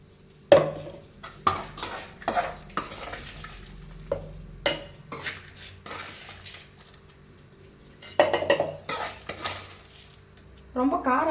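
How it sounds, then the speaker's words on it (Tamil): Metal utensils clatter and scrape against a mixer jar as cooled ground paste for pirandai thuvaiyal is transferred, with irregular close knocks and clinks and no talking. "இப்போ இதை வந்து மிக்ஸி ஜாரில் மாற்றிப்போம்."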